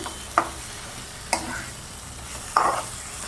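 Spices being sautéed and stirred in a pan with a splash of water for a besan papad curry: a low simmering hiss under three distinct scraping clinks of a spoon against the pan, no talking.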